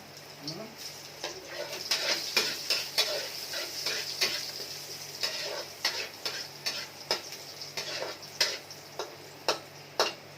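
Ginger added to a pan for chicken feet adobo in coconut milk, a soft sizzle under irregular scraping and clinking of a utensil against the pan, with a person talking.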